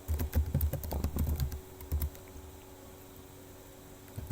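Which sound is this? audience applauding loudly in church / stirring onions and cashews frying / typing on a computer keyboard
typing on a computer keyboard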